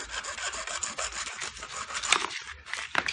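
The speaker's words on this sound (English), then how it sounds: "take some sandpaper and sand the burrs out" Sandpaper rubbed back and forth to take burrs off a replacement microwave door handle, a rapid rasping scratch in quick close strokes with a couple of tiny clicks.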